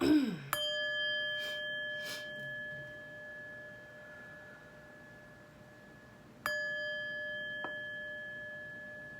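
A chime rings with a clear sustained tone that slowly fades over several seconds, then rings again about six seconds later with a second brief strike, soft and close in a quiet room with no talking.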